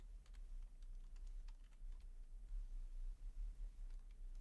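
Soft, quick keystrokes on a computer keyboard tap in scattered bursts, entering a key binding in software, faint and close under a low steady hum with no talking.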